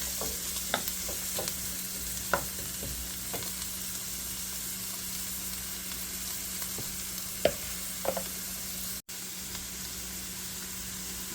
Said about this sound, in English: Add the onion. Just gonna let this cook for a few minutes until it just starts to soften.